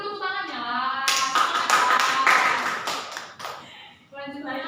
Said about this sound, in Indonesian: Kasih dulu tepuk tangannya lah.